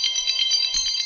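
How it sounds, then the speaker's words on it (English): A phone rings with an incoming call, giving a bright electronic tone that pulses rhythmically through its brief span, close and clear, with a faint low thump near the end. "that's the phone call I was waiting on"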